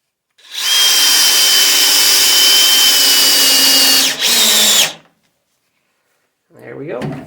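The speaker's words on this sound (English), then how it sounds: "Drill in a pilot hole, keep the wood from splitting." A power drill bores a pilot hole into wood while building a DIY storage rack for totes, one steady loud whine lasting about four seconds with a brief dip before stopping, then a short voice afterward.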